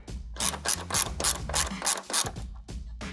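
A ratchet wrench clicks rapidly while loosening a 10mm bolt on the headlight of a 2010-2014 Ford F-150 Raptor; close, crisp bursts of ratcheting strokes in an uneven rhythm with brief pauses, no talking.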